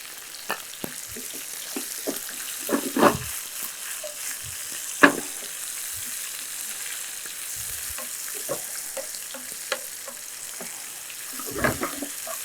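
Onions sizzle and fry in hot oil in a pan while cooking chicken pakoda varuval, a steady close crackle broken by occasional stirring scrapes and clinks, with no talking.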